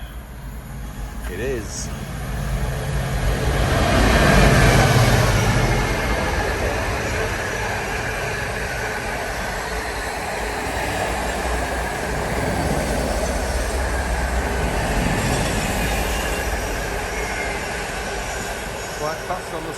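A freight train passes at speed on the slow line, a broad rumbling roar that swells, peaks and then settles into a steady rolling drone, with a voice speaking briefly over it.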